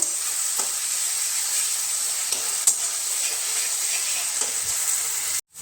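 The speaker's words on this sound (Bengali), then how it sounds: "টমেটো কুচি দেওয়ার পরে মশলার সাথে ভালো করে নাড়িয়ে চাড়িয়ে একটু কষিয়ে নেব" Spice paste and chopped tomatoes fry steadily in a pan for a Bengali potato and small-fish curry, a constant soft sizzle with occasional faint stirring clicks, cutting off abruptly at the end.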